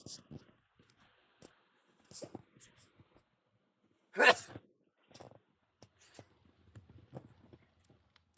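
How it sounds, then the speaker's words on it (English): A single sharp, loud sneeze bursts out midway, surrounded by quiet clicks and faint rustling before and after. "Holy moly, my sneezes. I really need to stop sneezing."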